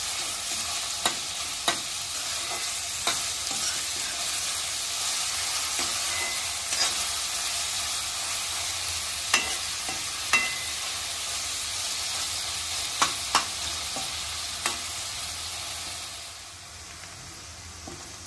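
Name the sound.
onion frying and being stirred until soft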